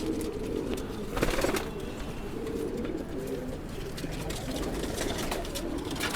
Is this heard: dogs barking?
no